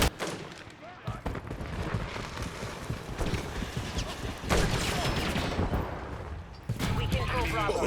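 Call of Duty Modern Warfare 3 gameplay fills with dense rapid gunfire and loud battle noise in sustained bursts, with a player's voice speaking over the firing.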